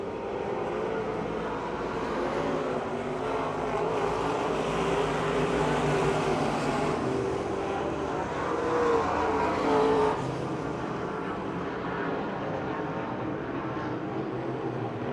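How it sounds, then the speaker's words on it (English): Race cars roar steadily down the backstretch into turn three at Pennsylvania Motor Speedway near Pittsburgh, a dense continuous engine drone of several cars at once that swells slightly midway. "now Clayton Kennedy on the outside of JJ as they motor down the backstretch into turn number 3."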